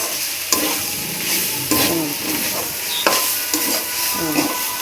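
Red amaranth greens fry in a pan while being stirred, a steady sizzle punctuated by repeated scraping strokes of a spatula against the metal, with no voices.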